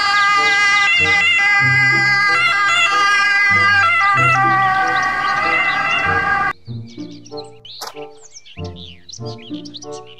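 A toy ambulance plays a loud electronic siren, a warbling repeated tone that cuts off partway through, leaving quieter chirping toy sound effects.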